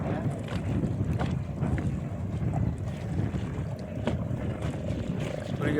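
Wind gusts steadily across an open lake during net fishing from a boat, a constant low roar with microphone buffeting and no speech.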